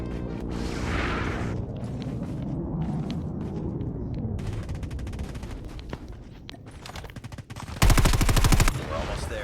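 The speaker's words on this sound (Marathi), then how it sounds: "We have called in a strafe run." A strafe run in a video game, with dense bursts of rapid machine-gun fire and booming impacts over a background of battle noise, ending in a loud sustained volley of automatic fire near the end.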